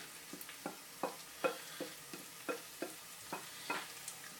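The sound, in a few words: stirring chicken curry mixture in a pan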